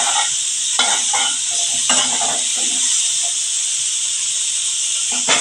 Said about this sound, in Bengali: এবার আমি একটু ভেজে নেব।